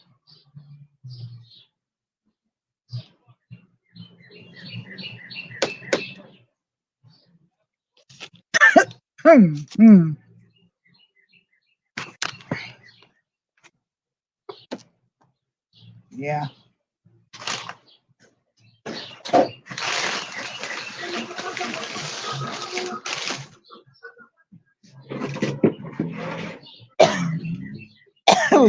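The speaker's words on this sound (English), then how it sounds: "I don't know why that makes me cough." Several short coughs and throat clearings while working in a garden come in scattered bursts, mixed with a few spoken words, clicks and quiet handling noises close by.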